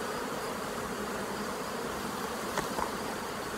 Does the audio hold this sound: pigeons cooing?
no